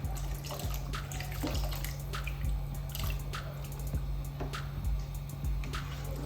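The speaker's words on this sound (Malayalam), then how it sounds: "കുറച്ചും കൂടെ വെള്ളം ഒഴിക്കാം" Water runs and splashes steadily into a pot for cooking oats, with scattered drips and clinks over a low constant hum.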